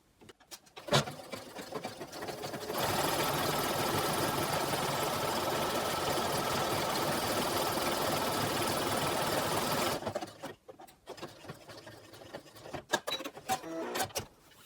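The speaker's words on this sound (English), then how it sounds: "So I'm just going to line up my mark here and stitch that buttonhole." A sewing machine stitches a buttonhole on a jogger pants waistband, running in a steady, fast continuous whir for about seven seconds, bracketed by quieter handling clicks and fabric shuffling before and after.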